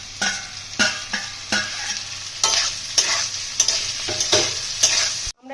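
Vegetables and capsicum fry in a pan for fried rice with matar paneer, a steady sizzle broken by repeated scraping stirs of a spatula, close and fairly loud, with no talk.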